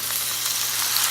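Pork stir fry sizzling steadily in a hot pan, a bright continuous hiss with faint crackles, close and alone.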